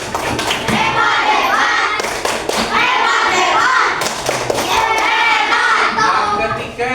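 Classroom children perform the "tepuk hebat" clapping routine, loud rhythmic group claps and thumps in quick patterned bursts mixed with children's chanting voices, close and lively throughout.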